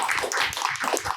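Applause for the hosts at Juan's Flaming Fajitas restaurant in downtown Henderson, a dense, steady patter of many hands clapping nearby, running throughout without talk.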